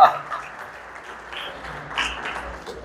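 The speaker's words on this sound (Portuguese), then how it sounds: "Vamos aplaudir o Senhor Jesus" A church congregation applauds during a service, a moderate wash of clapping that holds steady across the moment with a little crowd murmur.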